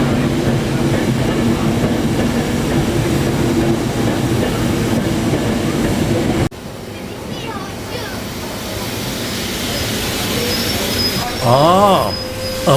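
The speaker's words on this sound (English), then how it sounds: "separating the loco and support coach from the train and sending them down to Upperby for servicing" A charter train locomotive and its support coach move through Carlisle Citadel station with a loud, steady rumble. After a cut, the sound grows quieter, then wheel clatter and a rising, wavering wheel squeal come in near the end.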